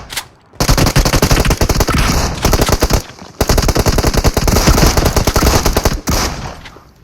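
Rapid automatic gunfire from a video game rattles out in several long, loud bursts separated by brief pauses, close and dominant with no talk.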